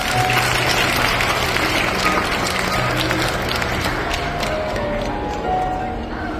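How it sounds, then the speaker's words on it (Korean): Wedding guests applaud in a steady, fairly loud wash of clapping that fills the hall, with a voice speaking over it and faint musical tones underneath. "한 번 더 따뜻한 박수 부탁드리겠습니다."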